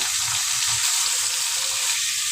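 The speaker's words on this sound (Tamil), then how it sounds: "சுத்தம் பண்ணி எடுத்து வச்சிருக்க மட்டன் இதில் சேர்த்துக்கலாம்" Mutton is tipped into a pan of sautéed onions and hisses in hot oil, a steady, bright sizzle holding close and even throughout, with soft bubbling underneath.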